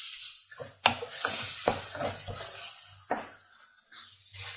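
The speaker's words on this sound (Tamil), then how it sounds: "இப்போ இந்த கீரையை போட்டு நம்ம நல்லா வதக்கிட்டோம்" Thuthuvalai greens wilting in a hot pan, giving a soft hiss with several sharp scrapes and clatters as they are stirred. The sound is close but fairly quiet, with no voices.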